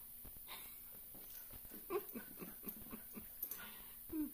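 Small dogs whimper and snuffle in short bursts, close by, with a few brief squeaky yelps near the end.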